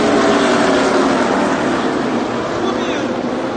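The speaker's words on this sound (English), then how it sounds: "Start up and revving at Darlington" A loud, steady roar of NASCAR race car engines starting and revving at Darlington, South Carolina fills the whole stretch, dense and continuous with no pauses, like cars running hard nearby.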